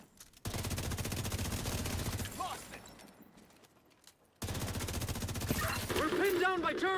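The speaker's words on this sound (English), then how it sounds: "We're pinned down by turrets at the main gate." Automatic turrets fire at the main gate in Assassin's Creed: two long sustained bursts of rapid, loud gunfire, split by a brief lull with quieter background noise.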